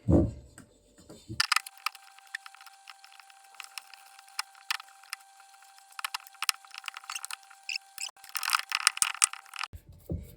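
Pizza dough of white flour being mixed by a machine or mixer, a steady close whir with scraping, rattling crunches and irregular knocks, starting after a brief thump and ending abruptly.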